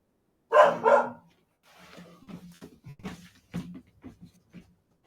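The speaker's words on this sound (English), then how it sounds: "Let's see what the dog's all about." A dog gives two loud, close barks, then a string of softer, quicker yips and short barks follows at irregular intervals in an otherwise quiet room.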